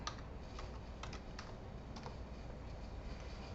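Soft, quick keystrokes on a computer keyboard, a brief run of typing clicks over a low steady background hum, fairly faint.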